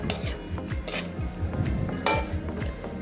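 Garlic butter shrimp being stirred in a pan, with quick metallic clinks and scrapes of a utensil against the cookware in an irregular rhythm, close and clear.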